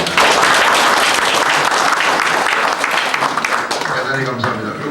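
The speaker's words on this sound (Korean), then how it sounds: "좋은 말씀을 들려주신 관장님께 다시 한번 박수 부탁드립니다" An audience at a lecture applauds vigorously, a loud close wash of many clapping hands that holds strong and starts to thin near the end, where a voice begins speaking over the fading claps.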